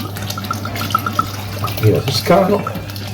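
Tuscan wine pours into a cooking pot for a wild boar peposo, a short liquid splash and trickle heard close under someone speaking.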